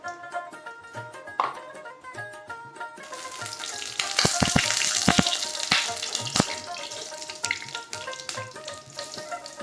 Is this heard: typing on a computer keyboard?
no